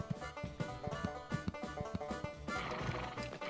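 A horse in the video game Animaniacs: The Great Edgar Hunt whinnies over rhythmic clip-clopping hooves, a short, fairly quiet burst of neighing against steady hoofbeats with no talking.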